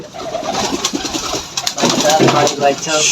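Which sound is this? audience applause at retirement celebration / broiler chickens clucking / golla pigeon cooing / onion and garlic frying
golla pigeon cooing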